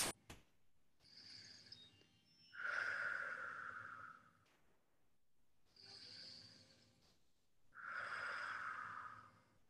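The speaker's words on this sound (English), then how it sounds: "3 more nice deep breaths." Slow, deep breaths during a yin yoga forward fold, each long inhale and exhale heard close and soft, about four breath sounds with quiet pauses between them.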